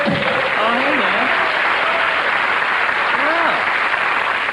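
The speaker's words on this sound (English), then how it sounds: "gee, that must feel good to get applause." A studio audience claps and cheers loudly and steadily during a taped comedy talk show, a dense wash of applause with a voice speaking briefly over it.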